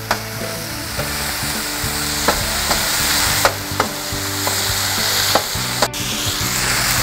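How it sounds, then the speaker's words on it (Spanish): Octopus searing in hot oil with salt in a paella pan, a loud continuous sizzle and spatter with occasional sharp clicks of a utensil against the pan, close and with no talk. "vamos a marcar los pulpos"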